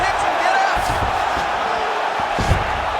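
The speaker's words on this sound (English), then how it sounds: "big pop from the crowd as they get back to their feet after a pretty scintillating grappling battle there on the ground" An arena crowd roars steadily in EA Sports UFC 5 during a mixed martial arts bout, a dense continuous cheer with a few thuds, under commentary.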